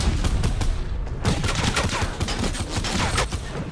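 Rapid gunfire in the video game Fortnite Battle Royale on Xbox One, dense bursts of automatic shots rattling continuously and loudly throughout, with no talk over it.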